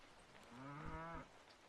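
A single cow lows once in the farming video game Old Market Sim, a faint, short harmonic moo standing out against a soft background patter.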